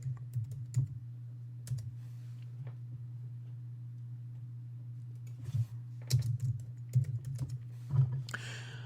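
Computer keyboard typing indoors: sparse, irregular key clicks at first, then quicker clustered bursts of tapping near the end, all fairly soft over a steady low electrical hum.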